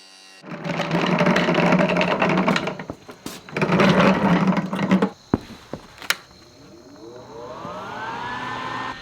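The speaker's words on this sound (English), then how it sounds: "For the rebar, I'm cutting it to length, and then I'm making one end of it pointy." Rebar being cut to length and ground to a point at one end for a DIY electric sheep-fence grazing tool: two long, loud bursts of harsh metal cutting, then a few sharp clicks and a rising whine that fades.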